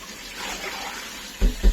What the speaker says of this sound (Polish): Wylejemy tą wodę.